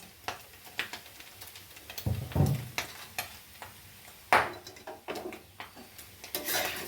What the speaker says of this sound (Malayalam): ഒരു സൈഡിൽ ബീഫ് ഫ്രൈ ആയിക്കൊണ്ടിരിക്കുക. അപ്പോൾ അതിൻ്റെ സൗണ്ടാണ് കേൾക്കുന്നത്.